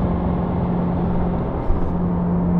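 Steady, even low drone inside a Subaru WRX cabin cruising at freeway speed, with a Tomei full titanium exhaust and a constant engine hum under road and tyre noise. No one speaks.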